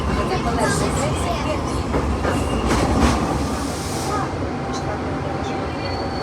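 Italian passenger train ride heard from inside a carriage, a steady loud rumble of wheels and track with faint clicks and brief squeals, while voices murmur under the noise.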